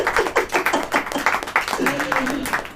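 A church congregation clapping hands during a sermon, rhythmic steady claps filling the space, loud and continuous, with a voice speaking over them.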